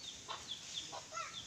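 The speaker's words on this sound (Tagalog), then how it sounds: "Mga manok tay?" Soft, scattered clucks from chickens, several short calls spaced irregularly over a faint background hiss.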